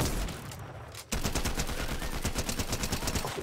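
Rapid automatic gunfire in Fortnite, aimed at a loot llama, rattles in a dense, steady burst after a brief pause, with sharp repeated shots filling most of the stretch and no talking over it.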